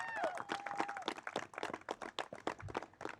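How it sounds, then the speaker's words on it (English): Scattered applause from a small graduation ceremony audience, quiet and uneven claps with a brief whistle or voice at the start, sounding distant and thin. "Big round of applause for Sonja Johnson."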